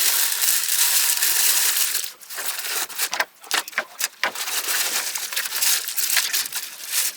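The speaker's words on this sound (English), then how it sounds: "Be a little careful when you open up the packaging" Packaging for a black crystal pendant light fixture is opened and handled, giving loud, close crinkling and crushing sounds with brief pauses.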